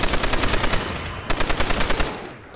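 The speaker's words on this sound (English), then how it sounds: "Huge machine gun." A heavy machine gun fires in Call of Duty: World at War Nazi Zombies, two loud, close bursts of rapid evenly spaced shots separated by a brief pause.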